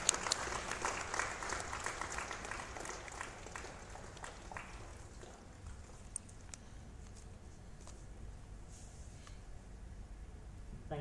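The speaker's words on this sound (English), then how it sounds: "A round of applause for him once again." Scattered, fairly faint clapping from a small audience at a yoga session, strongest at the start and thinning into sparse claps.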